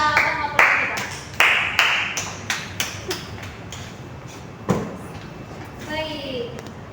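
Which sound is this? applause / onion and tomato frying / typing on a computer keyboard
applause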